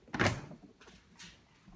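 Lid of a white and grey Pelican ProGear 30-quart Elite cooler pulled open, a single soft thud and scrape followed by a faint second rustle, close and quiet.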